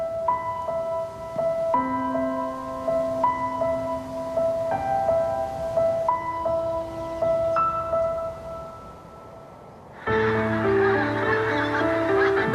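Migrating geese arrived from Greenland honk over barley fields near Montrose in autumn, repeated calls at a distance at first, then a denser, louder chorus of many birds near the end.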